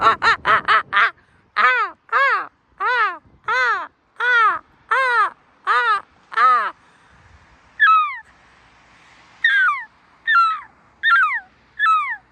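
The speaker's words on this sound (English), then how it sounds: "I'll let the seagulls go insane on their own now" Seagulls in Exmouth call loudly and repeatedly, a rapid run of harsh, close cries followed by spaced, slightly fainter squawks over a soft background hush.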